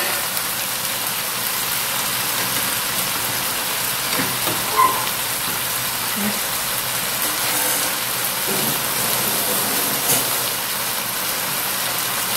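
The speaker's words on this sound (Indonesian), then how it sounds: "Kita goreng kentang" Potatoes fry in a pan with a steady, close sizzling hiss throughout, punctuated by a few small pops and stirring clinks.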